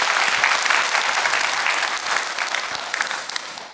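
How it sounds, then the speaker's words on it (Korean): A church congregation applauds, sustained dense clapping from many hands that holds steady for several seconds before easing slightly. "여러분 크게 박수 한번 해주시기 바랍니다."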